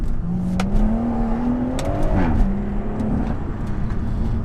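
A BMW M140i with a BM3 Stage 1 tune revs hard and climbs in pitch as it accelerates, with a gear shift midway before pulling strongly again, close and loud.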